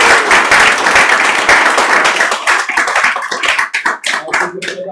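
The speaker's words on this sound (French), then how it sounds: "on les applaudit quand même" Applause from an audience at a French tech talk on katas: brisk, fairly loud clapping that starts dense and thins to scattered individual claps before dying away.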